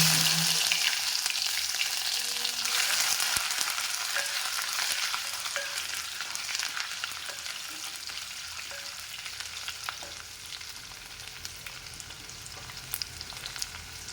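Loud, continuous frying hiss of crushed ginger crackling in hot oil after fenugreek seeds have popped, with occasional stirring scrapes, gradually settling slightly quieter over time.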